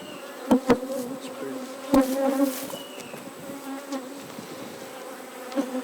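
Honey bees buzz around an open hive, several individual insects droning close by in overlapping passes, with a few louder bursts as bees fly near, alone without speech.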